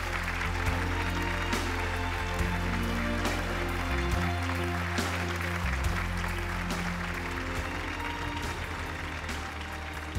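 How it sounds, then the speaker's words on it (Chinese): Applause rises from the studio audience of a Chongqing TV talk show as a guest is welcomed on stage, a steady dense clapping lasting throughout over a sustained background music tone. "我们掌声有请"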